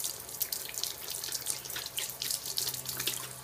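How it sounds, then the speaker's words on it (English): Tap water runs steadily into a sink as a makeup brush is rinsed clean of soap, a continuous close splashing hiss with small fluctuations and no voices. "And then I'll rinse it off real good"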